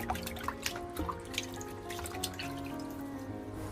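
Scallions being washed by hand in a basin of water, with soft splashes, drips and small trickling sounds, close and fairly quiet, no talking.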